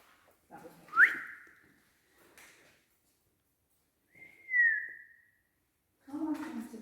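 A person whistles in an abandoned nunnery, producing two separate sliding whistle notes with silence between them. Short bursts of voice and other sounds come between and after the notes.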